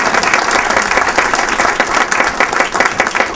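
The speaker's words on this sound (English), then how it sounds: "if we can give everybody a round of applause one more time" Loud audience applause at a community breakfast, many people clapping together in a full, close, continuous burst with slight swells and a few crowd murmurs.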